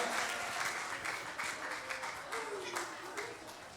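Worshippers at a revival service clap their hands for the Lord, a lively mass of clapping in uneven surges, with voices talking and calling out over it.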